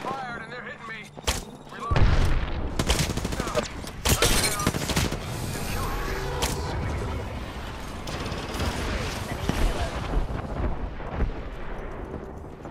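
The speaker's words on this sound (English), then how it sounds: "shots fired and they're hitting me" Rapid bursts of gunfire and booming explosions fill an Apex Legends ranked battle royale match, loud and dense throughout, with a player's voice talking over the shooting.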